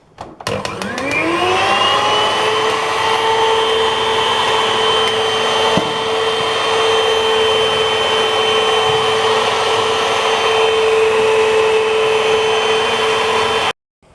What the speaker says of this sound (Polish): I jeszcze chwilkę pomiksujemy, tylko nie za długo, żeby nam się masło nie wytrąciło. Włączam.